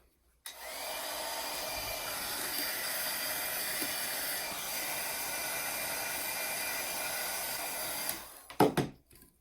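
A heat gun blows steadily on a sublimation shrink bag wrapped around a 20 oz tumbler, giving a loud, continuous airy roar for about eight seconds before it cuts off, with a few handling clatters at the end.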